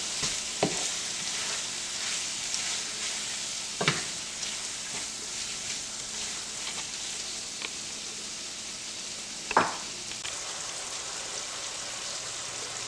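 Meat for awaze tibs sizzles steadily in a hot pan, a dense close frying hiss with a few sharper crackles and pops scattered through, and no talking.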